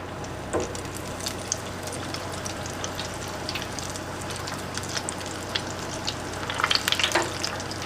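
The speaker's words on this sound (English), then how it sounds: "Just let them fry" Battered food deep frying in hot oil with a steady close sizzle and scattered crackling pops that grow livelier near the end, alone without talk.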